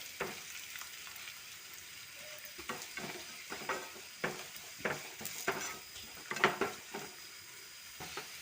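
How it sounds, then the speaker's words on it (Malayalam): Chili powder fries in a pan for a Kerala koorkka stir-fry, a steady close sizzle broken by repeated scraping stir strokes that build in intensity toward the end. "ഈ മുളക് പൊടി മൂക്കുന്ന വരെ ഒന്ന് ഇളക്കി കൊടുക്കുക."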